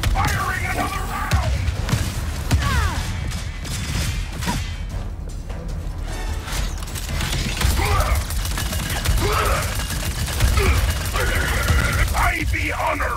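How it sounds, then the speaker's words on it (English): Busy combat in Ratchet & Clank Rift Apart with weapon rounds firing in repeated bursts and thumps over a dense mechanical din, while voices and game chatter run over the action throughout. "Firing another round!"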